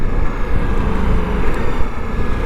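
A Ducati Multistrada motorcycle engine rated around 170 horsepower drones loudly and continuously while being ridden, mixed with steady rushing wind noise and no voices.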